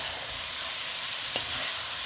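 Chicken frying in a pot for biryani gives a steady, close sizzle and hiss with a brief clink of stirring partway through, and nobody speaks.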